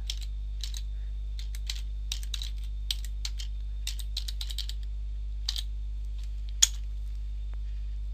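Light clicking of a computer keyboard as someone types a search on a Windows computer, quick bursts of keystrokes with short gaps, close and fairly quiet over a low steady hum.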